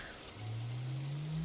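Steady, soft rain hiss from the video game Terra Nil, with a low droning tone slowly rising beneath it. It is faint and even, with no talking.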